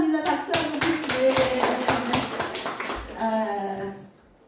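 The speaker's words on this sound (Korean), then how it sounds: "박수 한번 주세요" A church congregation claps for the accompanist in a burst of close, lively applause that lasts a few seconds before fading out, with some chatter mixed in.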